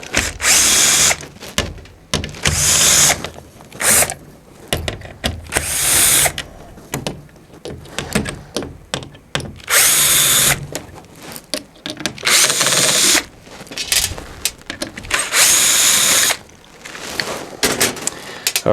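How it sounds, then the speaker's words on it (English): A power screwdriver backs out the six screws that hold the control board to the body of a Phoenix 300 MAX, a series of short, close, loud whirring bursts separated by brief pauses. "Now first thing we're going to do is remove the 6 screws that hold the control board to the body."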